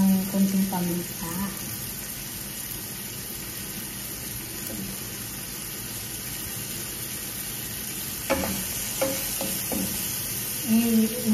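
Chicken sizzling in a pan while cooking for pansit bihon, a steady hissing fry running throughout with brief stirring clatter and a voice speaking over it now and then.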